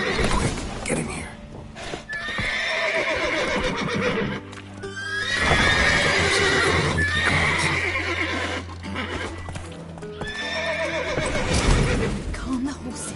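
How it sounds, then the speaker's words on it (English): Horses in The Witcher 3 video game whinny loudly and repeatedly, with hooves clip-clopping beneath, amid a busy, noisy game scene with voices. "Calm the horses."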